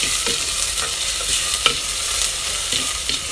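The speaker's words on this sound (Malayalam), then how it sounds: "ഉള്ളി ഇട്ടു ഒന്ന് വഴച്ചെടുക്കട്ടെ" Onions sautéing in a pan for a Malabar-style beef recipe give a loud, steady sizzle with occasional scrapes and stirring knocks, close up and without speech.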